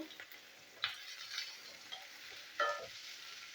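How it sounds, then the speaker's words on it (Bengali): Green chilli and chopped onion fry in oil, giving a faint, soft sizzle broken by a few sharp stirring scrapes and clinks. "কাঁচা লঙ্কা পেঁয়াজের কুচি আমি একটু ভেজে নেবো,"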